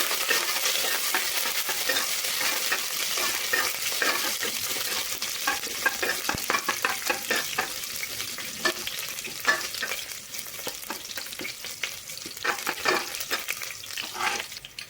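Crushed garlic, curry leaves and dried red chillies frying in a pan with steady bright sizzling and repeated scraping stirs, close and loud throughout with no talk.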